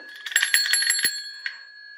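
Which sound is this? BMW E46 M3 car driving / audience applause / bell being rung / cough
bell being rung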